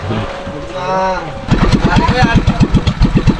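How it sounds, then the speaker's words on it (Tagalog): A boat engine sputters, then catches and settles into a loud, rhythmic chugging idle. Voices can be heard at the start. "Dison ang ganda ng makina mo ah."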